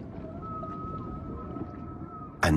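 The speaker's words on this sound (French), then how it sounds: "Année après année, les baleines inventent de nouveaux chants." Humpback whale song underwater: a long, steady tonal moan holds across the clip over a dense low rumble of sea noise, with a sudden loud splash or burst at the very end.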